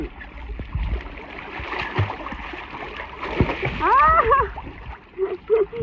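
Water splashes and churns in a backyard family pool at home, loud and close, with irregular slaps and swishes while excited voices shout and talk over the play.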